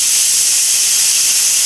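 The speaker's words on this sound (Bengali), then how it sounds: "আর এখন প্রেসারে সিটি দিচ্ছে," Pressure cooker steadily whistling and hissing with steam while mutton cooks inside, a continuous loud, bright jet of vented steam with no talk.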